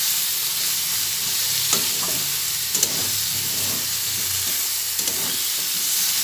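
Vegetables frying in a pan as they are stirred, giving a steady hiss and sizzle with a few soft scrapes and knocks from the spoon, heard without any talking.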